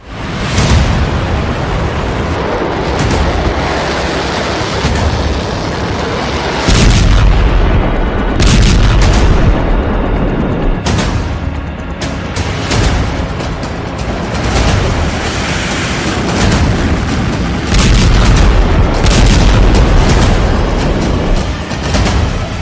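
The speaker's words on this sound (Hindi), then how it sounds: "बेरूत में भीषण धमाके" Loud, dense series of deep booms and blasts in Beirut, rolling one after another, with heavy rumbling continuing throughout and no speech.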